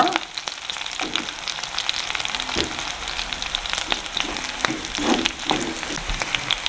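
Curry leaves, green chillies and garlic frying in a pan for a fenugreek curry, giving a steady close sizzle with scattered pops and crackles throughout.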